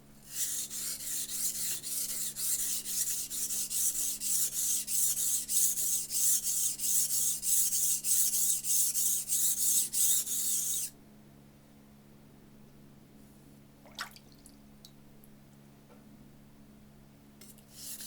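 An old Wusthof knife is drawn across a whetstone in fast, even strokes, a close, gritty rasping that repeats steadily for about ten seconds, then stops abruptly, leaving quiet room tone with a couple of faint clicks.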